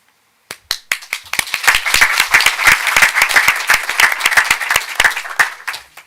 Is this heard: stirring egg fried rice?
no